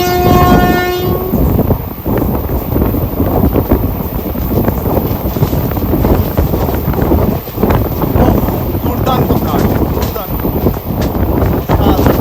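A passenger train running from Kolkata toward New Jalpaiguri past Barsoi station gives a loud, steady rumble of wheels and carriages with heavy wind buffeting; a horn sounds at the start.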